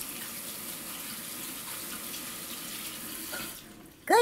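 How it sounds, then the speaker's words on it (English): Hands being rinsed under a running kitchen tap, a steady close hiss of flowing water that stops near the end, followed by a brief voice. "rinse them under running water"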